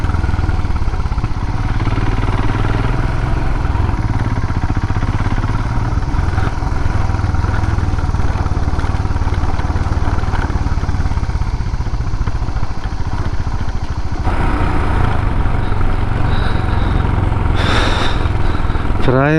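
A motorbike rides on a trip through jungle near Chigu Camp, Anini. The engine drones steadily and close throughout, with clatter and shifts in tone near the end, and no talk over it.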